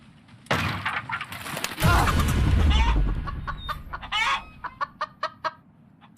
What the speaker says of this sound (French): Saloperie de poulet.